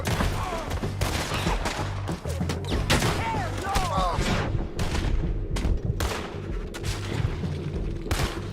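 Video game gunfire in rapid bursts and sharp single shots, loud and close, repeating irregularly throughout amid battle noise.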